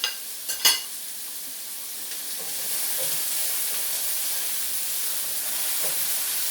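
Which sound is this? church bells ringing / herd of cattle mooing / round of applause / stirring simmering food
stirring simmering food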